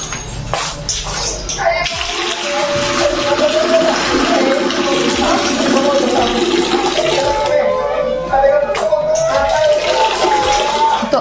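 Rice-washing water sloshes and gushes steadily for several seconds as it is poured out, loud and close, with a voice briefly heard at the start.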